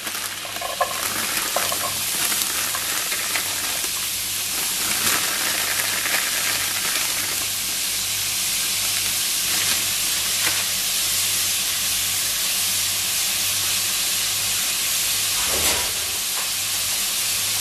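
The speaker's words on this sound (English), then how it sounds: "I'll just be adding in a little bit of water as we go along with frying the onions off" Onions frying oil-free in a pot with a little water, producing a constant steamy hiss and soft sizzle with a few faint stirring knocks, steady and moderately close with no talking.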